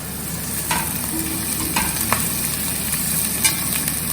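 Chillies and curry leaves fry and crackle in a pan while being stirred over a low flame, a steady close sizzle with a few scraping knocks of the spoon.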